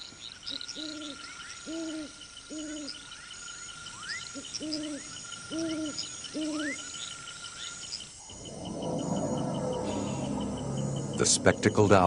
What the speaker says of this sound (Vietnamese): Một con cú vọ đang quan sát chăm chú